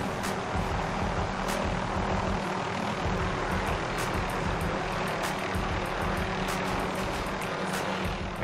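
Aircraft in a video game flying in to deliver allied weapons, a steady droning engine roar holding throughout, with faint sharp game effects poking through.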